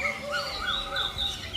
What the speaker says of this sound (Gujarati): નાની નાની ચકલીઓ